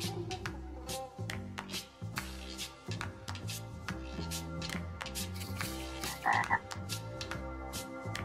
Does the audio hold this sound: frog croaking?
yes